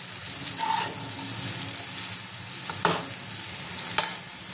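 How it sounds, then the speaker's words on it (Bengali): Chicken chowmein being stirred with a spatula in a pan, a steady sizzle with scraping strokes and a few sharper clinks of metal, close and alone without talk. "এটা আমি ভালো করে মিশিয়ে নেব খুন্তি দিয়ে।"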